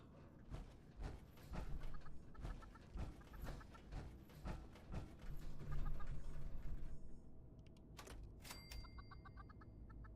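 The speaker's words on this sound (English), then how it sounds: "It is chickens." Chickens in the video game Fallout 76 cluck repeatedly in quick irregular bursts over faint mechanical clatter, with a denser flurry midway and sparser calls toward the end.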